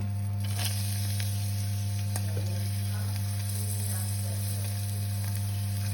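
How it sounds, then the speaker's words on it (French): Chopped shallots sweating in olive oil and butter give off a steady, even sizzle and frying hiss that runs the whole time, with a few soft stirring clicks and a low hum underneath and no talking. "On va faire suer les échalotes que vous avez hachées."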